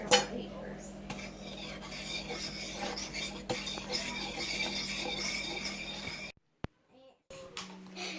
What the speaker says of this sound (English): So now let's stir it.